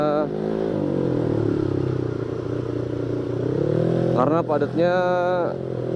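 A Honda Vario motorcycle fitted with a free-flow exhaust rides through congested Jakarta traffic, its engine droning steadily with rising and falling revs and a couple of sharper throttle blips near the end, while a rider talks over it.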